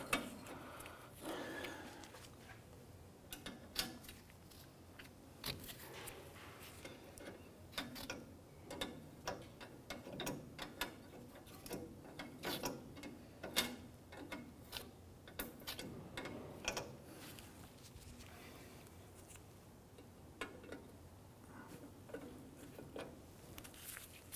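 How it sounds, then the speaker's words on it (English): Brake line fitting on the wheel cylinder of a drum-brake Chevrolet S10 pickup being unthreaded with a wrench, a long run of quiet, close, irregular ticking and clicking from the wrench and fitting. "So I'll just go ahead and unthread this from the back of our wheel cylinder."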